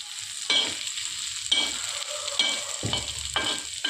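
Sprouted moong fries in a tempering of cumin and mustard seeds, a close sizzle punctuated by regular scraping stirs of a spoon, roughly one each second.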